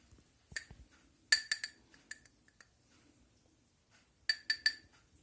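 A teaspoon tapping and clinking against small glass jars as salt is spooned in for canned mackerel in oil, in sharp clusters of bright clinks separated by quiet pauses, close and fairly soft.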